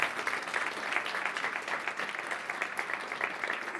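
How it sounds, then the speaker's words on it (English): An audience at a games festival gives a round of applause for the event technicians, dense steady clapping from a crowd lasting a few seconds, moderately loud and without speech. "There you go, big round of applause."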